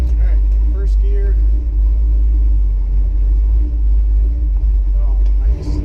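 A station wagon engine pulling in first gear at Atlanta Dragway, heard from close by as a heavy, steady low rumble that fades slightly at the end.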